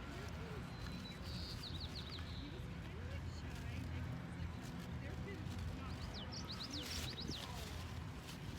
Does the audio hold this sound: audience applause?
no